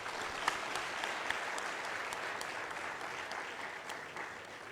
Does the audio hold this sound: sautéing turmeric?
no